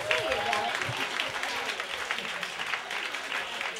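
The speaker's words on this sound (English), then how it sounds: "Round of applause" A small audience gives a round of applause for a singer at a reunion gathering, scattered clapping at moderate volume with a brief voice and murmuring mixed in.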